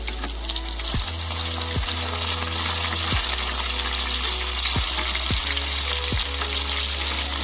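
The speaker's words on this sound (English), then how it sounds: "I'm going to reverse the sides and fry on both the sides till they are nicely cooked from inside" Semolina-coated chicken pieces fry in a pan with a loud, steady close-up sizzle and crackle, punctuated by several soft knocks as the pieces are turned.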